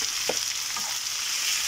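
Chicken cubes sizzle in a pan with golden-brown onions, a steady close hiss with a couple of brief stirring scrapes and no talking.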